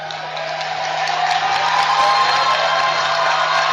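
Crowd at a girls' high school basketball championship game, Frederick versus Middletown, cheering in a gym after a score: a sustained, steady wash of voices and whoops that swells slightly and holds, heard from within the arena.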